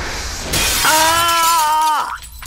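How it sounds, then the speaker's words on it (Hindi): A glass pane crashes and shatters in a dramatic movie scene, a loud burst followed by a sustained ringing, resonant tone that dies away after about a second, with no voices. "अच्छा हुआ ये शीशा मेरे सर पर गिरा और चकनाचूर हो गया"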